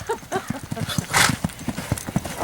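Horse hooves clip-clop in a steady rhythm close by, with a brief whinny in the middle and people talking over the sound, around yearlings.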